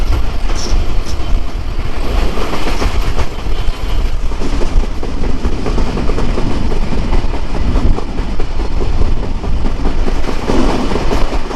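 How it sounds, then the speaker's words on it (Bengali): Chilahati Express passenger train hauled by an American-built 66-series diesel locomotive, a steady loud rumble of rolling cars with rhythmic clickety-clack of wheels over rail joints, continuous and close throughout, no voices. "এইটাই কিন্তু হচ্ছে আমাদের আমেরিকান জায়ান্ট আপনার ছেষট্টি সিরিজের লোকোমোটিভ"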